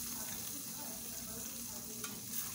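An egg sizzles and fries steadily in a pan while being stirred and worked with a utensil, a continuous close frying hiss throughout with no talking.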